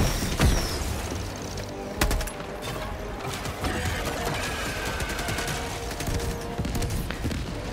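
A rocket turret fires in Helldivers 2, its sharp bursts and booms repeating amid a busy fusillade of gunfire and explosions, loud and continuous.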